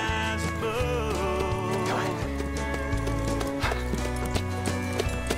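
A horse canters with rhythmic hoof clip-clops and a whinny, mixed under a steady musical score with sustained tones throughout.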